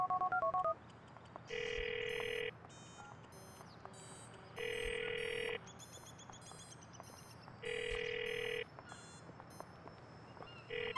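A telephone rings in Grand Theft Auto IV: three evenly spaced electronic ring bursts, each lasting about a second, over quiet background ambience, with a few faint higher beeps between them.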